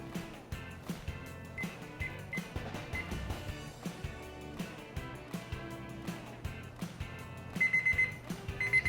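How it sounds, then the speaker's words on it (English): A kitchen timer alarm rings during outdoor grilling of skirt steak on a Weber grill, its electronic beeping repeating in steady rhythmic bursts that grow louder near the end, with no talk. "That's my timer, so let's flip our steaks."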